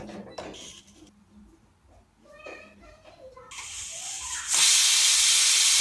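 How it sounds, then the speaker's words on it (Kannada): A pressure cooker cooking dal for sambar lets out a loud, sustained steam whistle in the final seconds, after quieter kitchen sounds and a voice. "ನೋಡಿ, ಕುಕ್ಕರ್ ಕೂಗಿದೆ."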